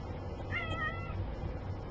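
A house cat lets out a single clear meow at close range, short and bright, then falls quiet against a low steady hum.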